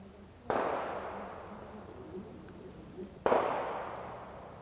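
Two distant gunshots from hunters in the countryside during hunting season, each a sharp crack followed by a long rolling echo, about three seconds apart over quiet outdoor ambience.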